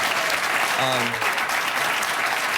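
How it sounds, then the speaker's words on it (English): Studio audience applauding loudly and steadily on a televised talk show, a dense continuous wash of clapping with a brief voice rising over it partway through. "Give them a big round of applause and stand up."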